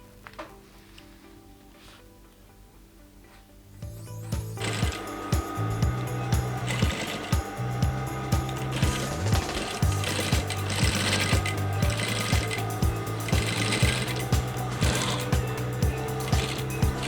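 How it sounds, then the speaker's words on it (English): A sewing machine stitches a traditional Yoruba abeti aja cap. After a few quiet seconds it starts up into a steady, close mechanical chatter with rapid, regular pulsing beats that continue to the end. "Now I'm stitching the other side of the"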